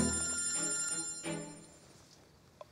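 A telephone bell rings indoors in a couple of moderately loud bursts, with a faint click near the end and no talking.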